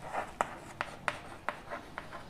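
Chalk or marker strokes on a board while a maths problem is worked out: a series of short, sharp taps and scratches at a steady rhythm, close and fairly quiet, with no talking.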